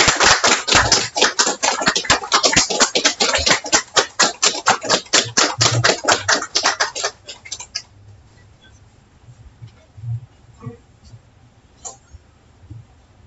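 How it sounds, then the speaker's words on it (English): A gathering at an Islamic temple meeting gives a lively round of applause for a speaker, dense and close for several seconds before it abruptly stops, leaving quiet room tone and a few soft voices. "let us bring him forth with a round of applause"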